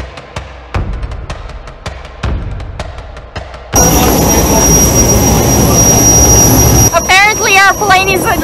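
A small jet airliner's engines at Walvis Bay Airport in Namibia roar loudly and steadily after a stretch of sharp clicks and knocks, with a rising whine near the end.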